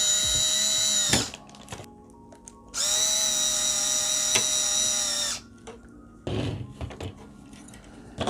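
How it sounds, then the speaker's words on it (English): A power drill drives screws into an airsoft rifle support piece, two long steady whirring runs with a short burst between and brief pauses of quiet, close and loud. "I like to screw in 2 screws on each side right here."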